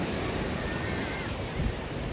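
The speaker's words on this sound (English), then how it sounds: "I'll give you a little flash of the ocean though" Ocean surf rolling in steadily along a beach, a broad continuous wash with gusty wind noise over the microphone and no clear individual wave breaks, heard alone without speech.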